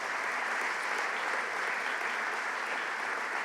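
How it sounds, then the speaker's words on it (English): An audience applauds New York Governor Andrew Cuomo at a downtown revitalization announcement in Westbury, a steady, dense wash of clapping from a large crowd that holds evenly throughout. "give the governor a round of applause"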